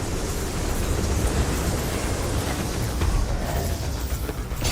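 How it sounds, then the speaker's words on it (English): Ratchet & Clank game train pulling away, a steady loud rumble of rolling wagons and mechanical noise lasting throughout with no pauses. "The train's pulling away."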